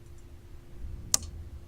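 A single sharp mechanical click from a car factory production line in a video game stands out against a quiet low hum, brief and fairly close.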